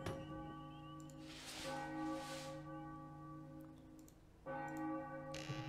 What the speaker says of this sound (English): the mechanism is damaged and doesn't work, but the bell keeps ringing